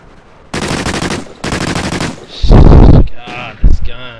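Automatic gunfire in a video game, heard as two dense rapid bursts close up followed by a heavier blast and other game effects, all loud and near, with no talking.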